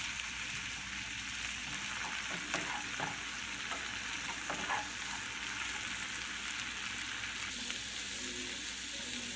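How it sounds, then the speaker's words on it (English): Garlic and shallots sauté in a pan with a continuous, even sizzle, broken by occasional faint spatula clicks and stirring, steady in level throughout. "We're just going to cook the garlic and the shallots till translucent"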